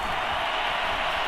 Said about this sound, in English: as this crowd rises to make things